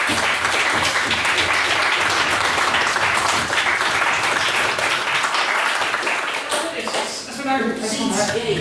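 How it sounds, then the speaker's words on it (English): Loud sustained applause from a debating society audience after a main speech in a motion debate, dense clapping filling the hall before thinning near the end, with a voice breaking through at the close. "another round of applause for his main speech."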